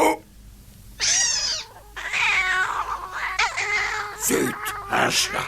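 A cat meows and caterwauls in a cartoon, several drawn-out, wavering yowls close up, one after another, with short gaps between them.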